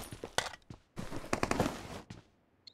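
Gunfire in PUBG Mobile, bursts of rapid automatic shots in two clusters with a lone shot near the end, moderately loud.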